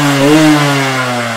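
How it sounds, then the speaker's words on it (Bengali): A Yamaha RX motorcycle engine revs loud and close, a steady buzzing two-stroke drone that rises slightly in pitch and then holds briefly. "ইয়ামাহা আরএক্স বাইকের সাউন্ড শুনাই দিই"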